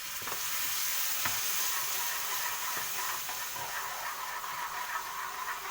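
Garlic sizzling and frying in a pan as vinegar goes in for Egyptian koshari, a steady close hiss with faint stirring scrapes throughout and no voices.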